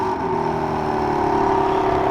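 A 2024 BMW M3 Competition coming to life by remote start, its engine settling into a steady, even idle hum that holds throughout, close by with no talking.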